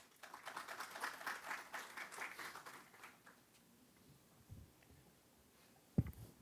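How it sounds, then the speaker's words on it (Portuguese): Applause at the opening session of a symposium on the ideas and practices of Pedro Sisnando Leite, hosted by the Academia Cearense de Ciências. A dense crackle of clapping lasts about three seconds, fades, and leaves quiet room tone with a brief bump near the end. "Peço uma salva de palmas, por gentileza."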